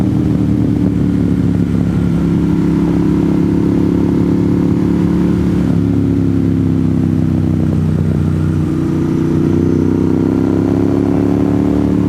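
Motorcycle engine on GA60, a winding North Georgia mountain road from Blue Ridge to Suches, a loud, steady mid-pitched drone that rises and falls slightly as the rider shifts, heard close up and alone.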